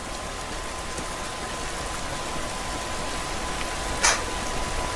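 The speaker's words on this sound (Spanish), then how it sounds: "Esta lluvia no nos va a ayudar" Steady rain falls across an outdoor scene in The Last of Us on PS4, a constant hiss filling the whole clip with one brief sharper splash near the end and no talk.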